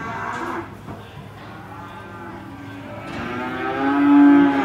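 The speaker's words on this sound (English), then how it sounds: "these Brahman cows" A Brahman cow moos in long, low, drawn-out calls, close and loud, swelling toward the end with no talking.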